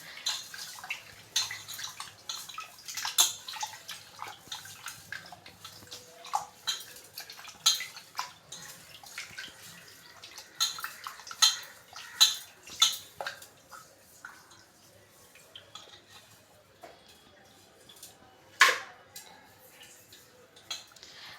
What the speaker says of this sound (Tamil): இப்போ 2வது தண்ணிலையும் போட்டு நல்லா அலசணும் பாருங்கள்.